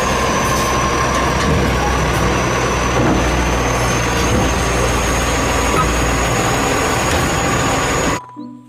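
A garbage truck drives by on a road, its engine producing a loud, steady low rumble with a faint high whine held throughout, ending abruptly.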